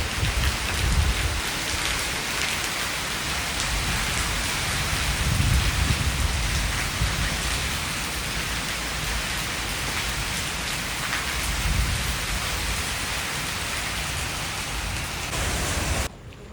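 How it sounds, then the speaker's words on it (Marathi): Steady heavy rain with hail and strong wind pours down for the whole stretch, a dense, loud hiss with low rumbling gusts, and no voices. "आमच्या इथं कसला पाऊस पडला, गारे पण पडले"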